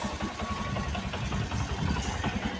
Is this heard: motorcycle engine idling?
yes